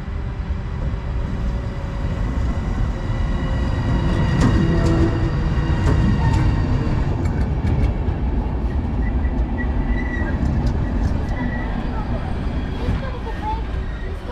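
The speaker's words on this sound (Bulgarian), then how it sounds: "И ето сега идва и влакът на" A passenger train pulls into Kostenets station, its loud steady rumble filling the air, with brief wheel squeals and clicks rising over the roar, heard up close.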